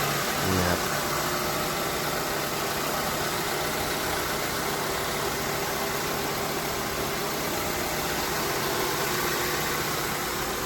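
A petrol Honda Civic four-door sedan idles in a steady, even drone that holds unchanged from start to finish, close and alone apart from a brief knock at the very start.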